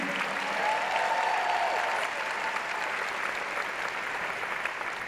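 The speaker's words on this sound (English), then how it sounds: "I'm hoping you will join me in one final round of enthusiastic applause for Dr. Finley Catrone, Dr. Sam Song" A university audience at a 2017 campus event gives a final enthusiastic round of applause for several doctors, a dense, steady wash of many hands clapping with faint crowd murmur beneath.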